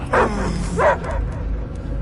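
A dog barks twice in a tense movie scene, two loud, close barks about half a second apart, over a steady low background rumble.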